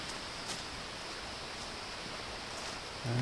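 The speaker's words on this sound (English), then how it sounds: "You hear the water in the distance here." Water rushes faintly and steadily in the distance in a humid rainforest at Mount Tamborine National Park, Australia, a soft continuous hiss with a brief louder noise at the very end.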